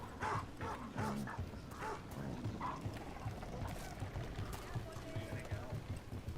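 A dog barks in the video game Dragon Age: The Veilguard, a few short yips early on amid game ambience and footsteps, fairly quiet and partly mixed with other activity.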